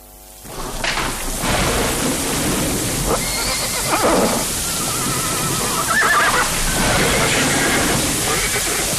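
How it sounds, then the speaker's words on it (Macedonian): Horses neigh and whinny repeatedly over steady rain, with thunder rumbling in the background. "То се новите коњи на база."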